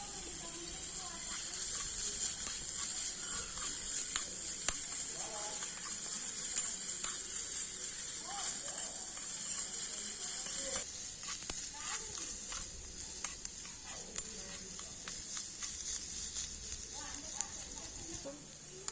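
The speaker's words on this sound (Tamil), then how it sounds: "நம்ம குட்டி குட்டியா வெட்டி வச்ச வெங்காயம், இதையும் நல்லா வணக்கிக்கலாம்" Finely chopped onions frying with a little salt in a pan, giving a steady, bright sizzle throughout that drops slightly in level partway, with faint stirring scrapes.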